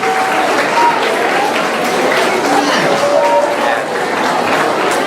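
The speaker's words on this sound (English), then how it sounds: "Go ahead and clap." An audience in a school assembly room claps loudly and continuously, a dense wash of hands with crowd chatter mixed in.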